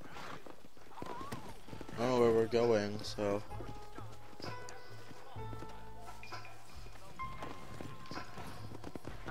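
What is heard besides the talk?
horse hooves riding in video game Red Dead Redemption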